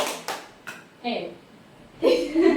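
Three sharp hand claps of a children's 'tepuk siang, sore, pagi' clapping game in a small guidance group, spaced in a quick rhythm, followed by voices chanting along.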